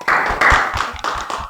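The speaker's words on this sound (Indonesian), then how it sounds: "Tepuk tangan untuk kelompok 1." A classroom group claps for the first presenting group during a microteaching session, a dense, loud burst of many hands clapping together, close and sustained with slight surges.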